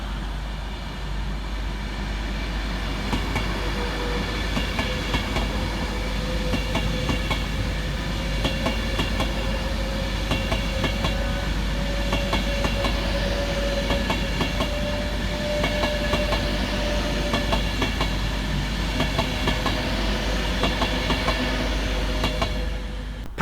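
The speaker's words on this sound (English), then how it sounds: "Next up, passing 82 minutes late is 390-123, working the 1 Mike 13 for Avanti West Coast from Glasgow Central" An Avanti West Coast Class 390 electric train passes through Stafford station, giving a loud, continuous rumble and steady whine with a faint rising tone, close by and heard without talk.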